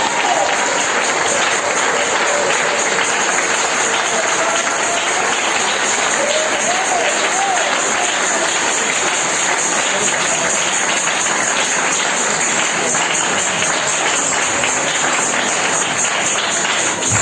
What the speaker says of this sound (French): Donnez-moi l'acclamation au Seigneur.